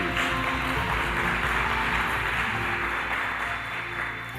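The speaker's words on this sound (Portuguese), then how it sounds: "Dá uma forte salva de palmas para Jesus" A church congregation applauds for Jesus in a dense, sustained wash of clapping, with a tonal musical backdrop underneath that fades slightly at the end.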